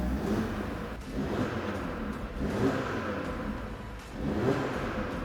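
Audi Sport car engine in dynamic mode, heard inside a showroom, revving in a steady mid-pitched drone with repeated swells roughly every second and a half, loud and close, with no talk over it.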